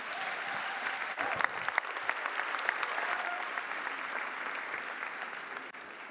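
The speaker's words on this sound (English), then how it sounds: "if you can give them a big round of applause" Audience applause at a product innovation gala fills the room steadily, a dense wash of many hands clapping that holds evenly for several seconds with a few sharper claps standing out.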